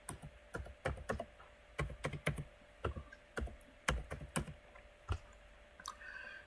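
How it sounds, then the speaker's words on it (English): Typing on a computer keyboard during work in QGIS software, a quick, irregular run of sharp key clicks close by with short pauses between bursts, and no talking. "and you type interpolation here"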